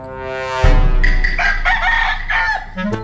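A large rooster crows loudly at close range while walking nearby during an outdoor ritual ceremony in Thailand, one long harmonic cock-a-doodle-doo rising then sustained, with no talk over it.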